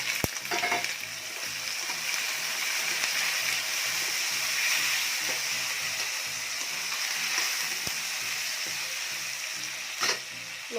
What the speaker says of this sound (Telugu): లో ఫ్లేమ్లోనే మనం ఈ వంకాయని ఫ్రై చేసుకున్నామండి